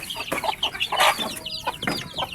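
Farm chickens cluck repeatedly at feeding time, a busy overlapping flock of short clucks and calls close by with no one talking.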